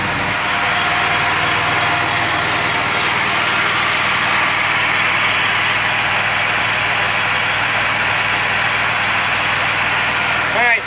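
A Kohler engine on a 2018 Evolution power system runs steadily with a continuous idling drone and a mechanical agitator clatter, loud and unbroken throughout.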